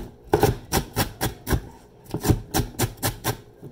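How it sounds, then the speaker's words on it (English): A knife chopping celery on a cutting board, a quick run of about a dozen close, crisp thuds in a steady rhythm with a brief pause midway. "I finished chopping up the celery"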